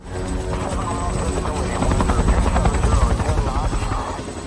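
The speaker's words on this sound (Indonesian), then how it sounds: "helikopter mau tidak mau harus terbang dekat dengan bebatuan" A loud, close helicopter flying near rocks in a film, with thudding rotor blades and a roaring engine, growing a little louder partway through.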